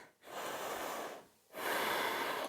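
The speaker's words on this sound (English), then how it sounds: "Breathe here for 5 breaths." Two slow, deep breaths during a prenatal yoga high lunge, each a long airy exhale separated by a brief quiet pause, close and soft with no talking.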